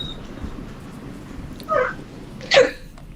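Two short, sharp hiccups from a person, one at a time about a second apart, close and fairly loud over a quiet indoor background.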